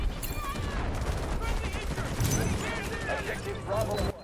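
Rapid bursts of gunfire with explosions and chaotic battle noise in the video game Delta Force, while a player talks excitedly over the action.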